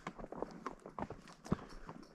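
A horse's hooves clip-clop at a walk on a ride around a reservoir, a quiet, irregular series of close thuds and knocks with small rustles between them and no talking.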